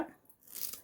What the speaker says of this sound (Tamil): ரெண்டாக கட் பண்ணி எடுக்க போகிறேன்